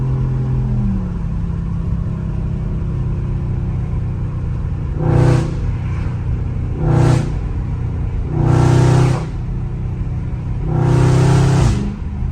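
A Dodge Charger Scat Pack idles with a deep, steady rumble, then the engine roars in four loud, short surges as it launches and upshifts, each burst ending abruptly.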